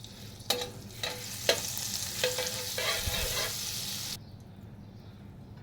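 A utensil stirs and scrapes ingredients for paneer bhurji in a hot, oiled pan, with a run of sharp clinks over a steady close sizzle that drops away near the end.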